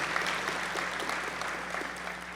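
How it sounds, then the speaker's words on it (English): An audience applauds a Junior ROTC trio at a county public schools State of Schools event, a steady, fairly quiet wash of clapping lasting a couple of seconds. "A round of applause for the beautiful trio in the Junior ROTC."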